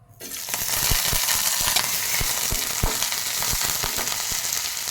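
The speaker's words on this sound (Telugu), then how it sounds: "రెండు టీ స్పూన్ల ఆయిల్ అండి జీలకర్ర కరివేపాకు అల్లం వెల్లి" Cumin, curry leaves, ginger and garlic fry in two teaspoons of oil for a peanut and roasted gram chutney, making a loud, steady sizzle with sharp stirring clicks and pops throughout.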